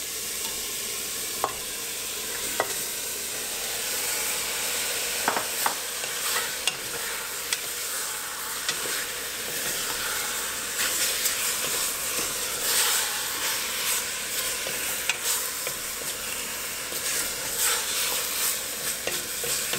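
Meat sautéing in a pot with onion, garlic and cumin for a country-style soup, a steady close sizzle and hiss with occasional sharp clicks and scrapes of stirring.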